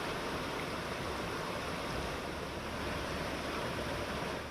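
A steady, soft rushing of water from a new river formed by a landslide, a continuous even wash with no voices heard.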